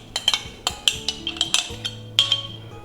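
A spoon clinks and scrapes against a bowl while softened cream cheese is mixed with Yum Yum sauce. The sharp taps come in an irregular series of about a dozen, close and fairly loud, with no talking.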